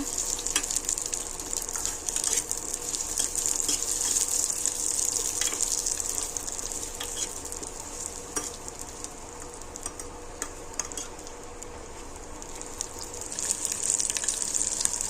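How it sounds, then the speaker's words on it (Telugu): Onions lightly frying in a pan, giving a bright, continuous sizzle with scattered ticks and pops throughout, no voices. "ఉల్లిపాయ వేసుకుందామండి లైట్గా వేయించుకున్నాం ఉల్లిపాయ"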